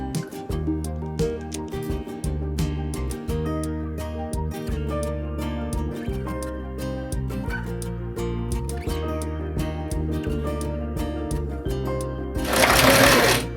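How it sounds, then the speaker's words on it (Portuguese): A sewing machine stitches a seam with backstitching on fabric for a pot holder or oven mitt. Close, rhythmic whirring runs stop and start throughout, ending with a brief burst of rustling noise. No voices. "Fazemos o retrocesso e agora passamos a nossa costura."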